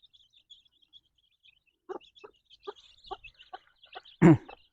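Chickens on a farm: a few short clucks spaced irregularly, then one louder squawk near the end, with a thin chirping bird call running faintly in the background throughout.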